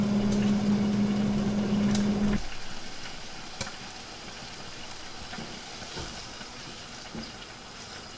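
Frank's Red Hot buffalo wing sauce simmers in a pan, a steady soft sizzle and bubbling close by that settles quieter after a brief hum stops, with no talking.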